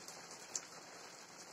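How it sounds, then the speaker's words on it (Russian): Soft, steady rain hisses faintly with an occasional louder drop, a quiet continuous shower following a heavy downpour, with no voices. "Дождь опять начинается."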